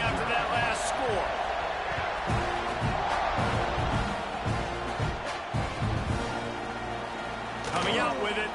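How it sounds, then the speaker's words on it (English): Stadium crowd buzzing in the College Football 26 video game, a dense continuous roar of many voices with scattered shouts and claps, steady throughout under some talk. "this crowd is buzzing after that last score"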